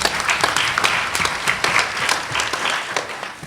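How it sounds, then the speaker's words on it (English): An audience at a talk on the Underground Railroad applauds, giving steady, moderately loud clapping from many hands throughout, with no voices on top. "So let's applaud President Obama for that"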